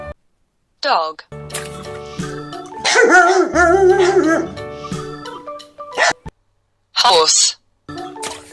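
Toy dog figure's recorded barks from a children's animal-names toy: a few short yaps, then a longer whining, howling bark run and more sharp barks, fairly loud and close, with pauses of silence between bursts.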